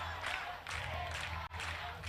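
Crowd cheering and roaring in support of Spain at the IMCF medieval combat championship in Belmonte, 2023: a steady, dense wall of distant noise holding throughout, with one brief drop near the end.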